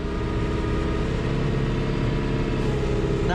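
A John Deere 7520 mixer tractor engine runs loud and close with the PTO engaged, a steady heavy diesel drone with a throbbing low rumble.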